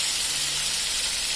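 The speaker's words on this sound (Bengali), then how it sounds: "এখন আমরা এর মধ্যে যে আলুগুলো আছে সেটার মধ্যে দিয়ে দিচ্ছি" Potatoes hit a pan of hot fried spice masala while cooking a fish and potato curry, producing a loud, steady hiss and sizzle that fills the short moment close up.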